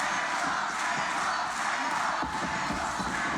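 A wrestling arena crowd roars steadily for Kurt Angle at a TNA Impact match, a dense, loud, continuous wash of cheers and shouts with scattered chants and no clear commentary.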